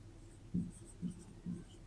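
Pen or pencil writing on paper while a quadratic polynomial math problem is worked out, heard as three short scratchy strokes, close and quiet, with no talking.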